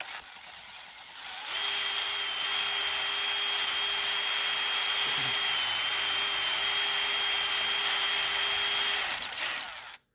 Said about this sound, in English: The size that I'm going to use is a 25/64 drill bit.